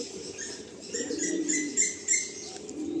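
Pigeons coo in a loft in Garia, Kolkata, overlapping low throaty rolls close by with a few brighter chirps and a soft flutter of wings.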